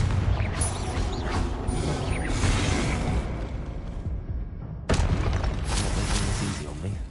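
A Confringo spell blast in the Hogwarts Legacy video game, booming, crashing impacts with debris and mechanical clatter, a sharp new burst midway, mixed with a voice.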